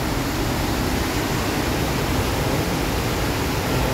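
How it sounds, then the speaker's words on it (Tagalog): A flooded creek roars after sudden heavy rain, its fast water rushing over stones in a steady, dense, loud wash with no break and no voices. "Siya ang bulong sa tubig."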